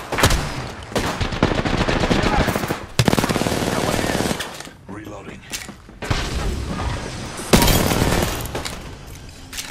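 Gunfire from the video game Apex Legends, with long loud bursts of rapid automatic fire broken by short pauses, near and dense, over a constant background of game sounds.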